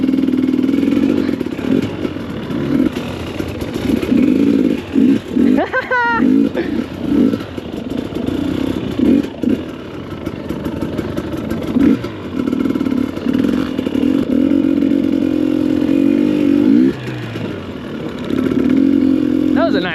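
A dirt bike fitted with a new tire roars close by, its engine revving and surging in repeated bursts with clattering and scraping between throttle blips, while a rider talks over it.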